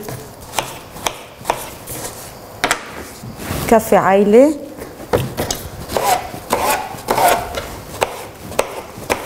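A knife chops eggplant against a cutting board in quick, sharp taps while a person talks over the cutting.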